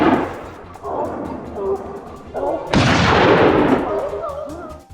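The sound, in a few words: gunshots during a wild boar hunt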